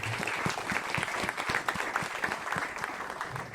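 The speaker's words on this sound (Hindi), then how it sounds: "जोरदार तालियां खुदावन के लिए" Loud, sustained applause from a church congregation during a sermon, dense continuous clapping from many hands throughout, with faint voices underneath.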